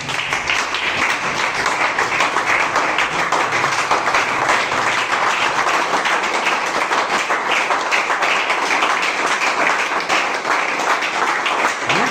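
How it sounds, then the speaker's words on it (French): A church congregation claps together in praise, a dense, continuous wash of many hands applauding at steady volume throughout. "Applaudissons pour le Seigneur."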